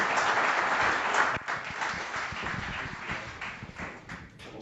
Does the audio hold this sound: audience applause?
yes